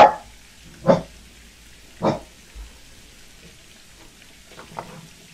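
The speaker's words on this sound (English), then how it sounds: "now my dogs choose to bark and scare the ever-loving shit out of me" A few household dogs bark in the background, three sharp separate barks in the first two seconds followed by fainter yaps, against an otherwise quiet room.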